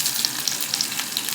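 Cumin seeds, curry leaves, chopped onion and carrot fry in hot oil for a chickpea masala gravy, making a steady close-up sizzle with small crackling pops and no voices.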